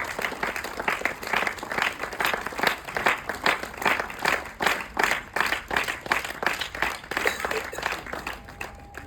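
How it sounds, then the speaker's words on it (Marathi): An audience at a logo unveiling event breaks into sustained, dense applause, a steady wash of many hands clapping throughout. "खूप साऱ्या जोरात टाळ्या वाजवून आपण या प्रसंगाचा"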